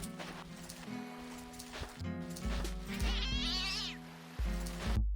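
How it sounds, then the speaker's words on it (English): A cat yowls and squalls in a video game, wavering meow-like cries over layered game music and ambience, moderately loud with the cries rising near the middle. "Do I have to listen to this cat yowling and squalling and freaking out?"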